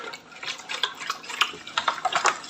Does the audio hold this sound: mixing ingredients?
yes